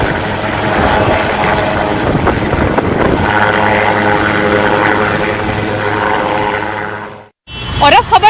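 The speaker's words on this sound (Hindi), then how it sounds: "लाइट कॉम्बैट हेलीकॉप्टर बहुत जल्द भारतीय रक्षा तंत्र का हिस्सा बनेगा" An Indian Light Combat Helicopter flies close by, its loud, steady rotor and engine roar filling the air before cutting off abruptly near the end.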